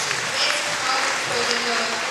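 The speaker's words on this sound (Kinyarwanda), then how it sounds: "gukomera amashyi umwami wacu Yesu Kristo" A church congregation at a prayer service applauds in a continuous, thick wash of clapping, with voices mixed in throughout.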